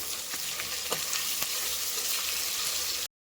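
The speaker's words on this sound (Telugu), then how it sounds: "ఈ టొమాటోస్ బాగా మెట్టగా అయిన వరకు మగ్గ పెట్టాలి" Tomatoes frying and softening in a pan for a Rayalaseema-style mutton curry, a steady close sizzle with a few stirring scrapes, no talk, ending abruptly.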